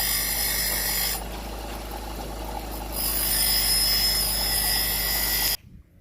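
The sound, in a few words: grinding a hole into a part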